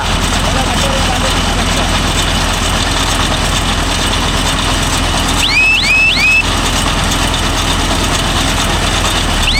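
A Mahindra Yuvo Tech Plus 585 DI 4WD tractor engine drones steadily and loudly through the whole stretch. A few quick high chirps cut in briefly near the middle.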